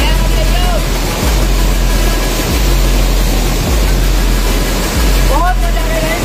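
Loud, constant roar of a fast-flowing mountain river beneath a waterfall in Uttarakhand, a broad rushing wash close to the microphone with a few faint thumps underneath.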